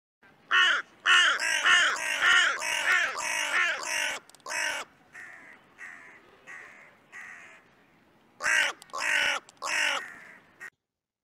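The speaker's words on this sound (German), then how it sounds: "Rabenkrähen sind Allesfresser." A carrion crow caws in a series of harsh, loud calls, first in a rapid run of about a dozen, then softer scattered caws, and a final close burst of several calls.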